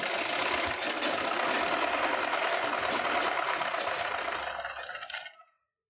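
A sewing machine stitches elastic onto a child's half pant with a rapid, even mechanical rattle close by, running steadily before stopping abruptly near the end.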